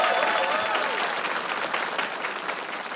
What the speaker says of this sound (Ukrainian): Ці оплески для вас сцена чекає